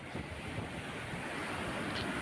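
Sea waves at Palavakkam beach, a steady broadband wash of surf with wind noise on the microphone, fairly faint and continuous with no voices.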